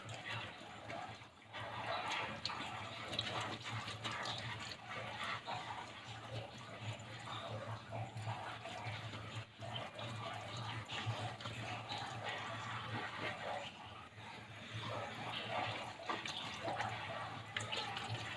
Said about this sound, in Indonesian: Dibilas sampai busanya itu gak ada